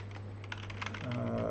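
Rapid typing on a computer keyboard, soft steady key clicks at close range, no voices, against a low hum.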